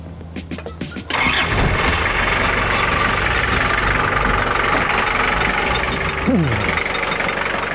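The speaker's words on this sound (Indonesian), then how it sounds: "Bunyinya kasar ya karena dia diesel." A Daihatsu Taft diesel engine cranks briefly, catches and settles into a loud, rough, clattering idle, close by and steady for the rest of the clip.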